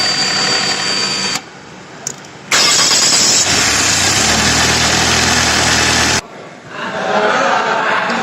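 A car engine cranks and catches after a short quiet gap, settling into a loud, steady idle that runs for several seconds before cutting off, with a faint hum afterward.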